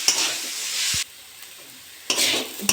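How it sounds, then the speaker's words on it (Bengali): Potatoes and drumstick flowers stir-fried in a pan, a loud hiss and sizzle of frying in two bursts with a quieter gap between, broken by sharp scrapes and knocks of the spatula against the pan. "এটা নেড়ে চেড়ে ভালো করে ভেজে নেবো।"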